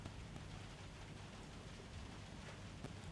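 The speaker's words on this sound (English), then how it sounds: "Let's just pause and listen to the rain for a moment." Steady rain patters on a glass panel overhead, a soft even hiss with occasional sharper drops, with a tumble dryer faintly humming in the background.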